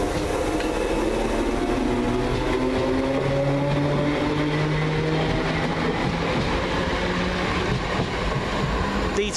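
A First ScotRail Class 320 electric train pulls away from Glasgow High Street station toward Airdrie, its motor whine rising steadily in pitch as it gathers speed over a continuous rumble of wheels on track.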